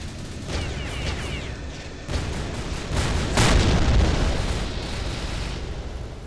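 Anti-tank weapon explosions in The Citadel video game: a string of loud, rumbling booms rolling one into another over about six seconds, building to a heavy peak midway before easing into a sustained roar.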